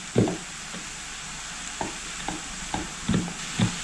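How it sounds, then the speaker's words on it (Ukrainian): Mushroom gravy with a teaspoon of starch being stirred in a pan, giving a series of light utensil scrapes and taps, spaced unevenly over a soft steady hiss. "Сюди ж додаю одну чайну ложечку крахмалю для більш такої гладкої текстури нашої підливи. І перемішую."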